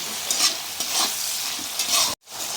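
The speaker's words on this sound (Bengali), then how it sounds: "আমি এবারে টমেটোটাকে ভেজে নেব একটু।" Tomatoes with onion fry in a pan, salted, with steady sizzling and repeated scraping stir strokes throughout, broken by a brief silent gap near the end.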